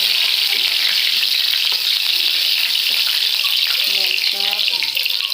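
A bay leaf sizzles in hot mustard oil in a pan, a loud, close, continuous crackling hiss with a voice speaking briefly over it.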